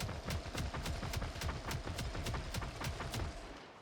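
Regular bursts of rapid gunfire from elite enemies in Warhammer 40k: Darktide, a steady string of sharp cracks with low booms underneath, fairly faint and continuous for several seconds.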